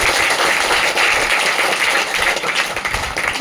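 A church congregation claps hands together in thanks, a loud, continuous wash of many people applauding at once without pause.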